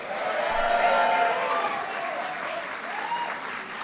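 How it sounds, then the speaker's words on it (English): Audience applause fills the room at a White House St. Patrick's Day celebration, a dense, sustained clapping from a large crowd that swells early and holds steady. "Give them a big round of applause."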